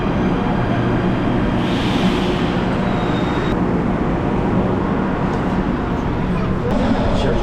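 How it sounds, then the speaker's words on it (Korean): Subway train running fast through a tunnel, a loud steady rumble and roar with rattling carriage noise that holds for the whole stretch. "지하철 속도가 엄청 빠른 것 같아요."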